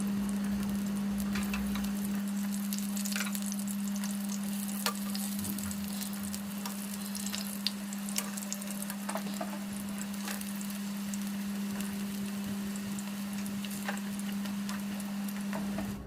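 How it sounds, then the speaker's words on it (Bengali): Pumpkin flower pakoras frying in hot oil, a continuous close sizzle with scattered crackles and pops throughout, and a steady low hum beneath. "দেখো আমার এদিকে হয়ে গেল পকোড়া ভাজা"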